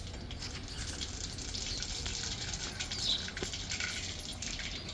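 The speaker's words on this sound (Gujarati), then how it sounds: "તેલ ગરમ થાય એટલે રાઈ જીરું ફોડી લઈશું" Mustard seeds and cumin crackling in about three spoonfuls of hot oil in a kadai on a gas stove, a dense, steady sizzle with fine popping throughout, close and fairly loud, with no voices.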